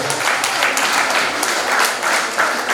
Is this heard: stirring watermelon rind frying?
no